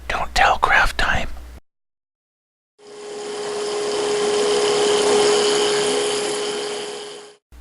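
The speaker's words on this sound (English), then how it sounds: "Those pieces of cedar that I had cut to 3/4 of an inch by 3/4 of an inch are being turned down now." A wood lathe turns cedar spindles cut to 3/4 inch square, giving a steady, close whirring rush with a constant hum that holds for several seconds after a brief whisper and a pause.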